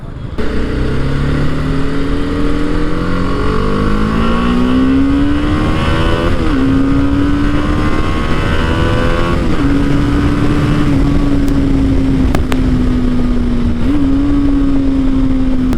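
A 2020 BMS G 310 GS motorcycle, the BS6 version, accelerates hard on the road, its engine note climbing steadily through several gear changes, loud and close throughout with no talking.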